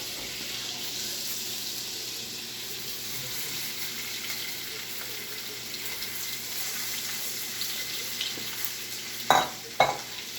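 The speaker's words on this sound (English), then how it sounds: "now we're going to stick the sausage in." Sausage goes into butter in a hot pan, and a steady sizzling hiss of frying runs throughout, with a couple of sharp clinks or scrapes near the end.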